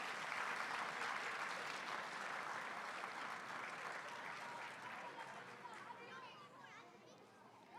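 An audience at a Martin Luther King Jr. celebration applauds a choir leader, steady clapping that slowly fades toward the end, with children's chatter rising beneath it.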